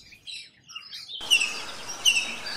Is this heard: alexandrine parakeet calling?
yes